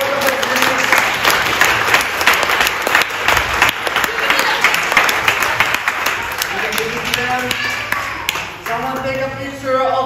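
At a primary-school dodgeball tournament awards ceremony, a crowd of children and adults applauds the winning team in a loud, sustained burst. Voices talk over the clapping, and the applause thins toward the end.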